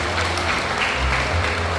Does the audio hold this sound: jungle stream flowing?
no